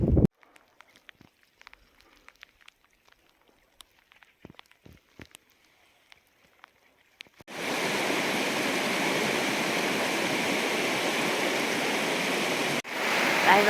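Sparse small taps and rustles along a riverbank give way to a sudden loud, steady rush of river water in the rain, close and continuous, briefly dipping near the end before resuming.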